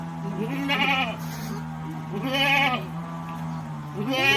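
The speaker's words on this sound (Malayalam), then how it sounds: "കുഞ്ഞിനെ കാണാനിട്ടാട്ടോ ഇത് കിടന്ന് കരയുന്നത്" A goat on a small farm bleats for its kid in three loud, wavering cries at a steady pace, each close by, with some barnyard background between calls.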